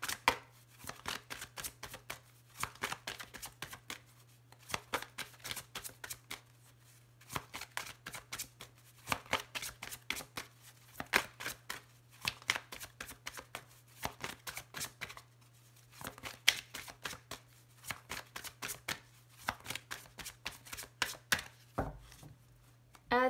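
A deck of tarot cards is shuffled by hand again and again in quick bursts of riffling and flicking, quiet and close over a steady low hum.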